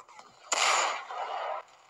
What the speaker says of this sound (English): Should I, you know, shoot him?